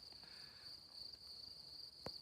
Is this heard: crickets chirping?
yes